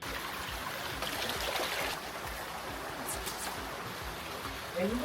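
Steady rushing water flows and splashes continuously over rocks at Wadi Diftah in the UAE, a close, broadband trickle and gush with no clear pauses.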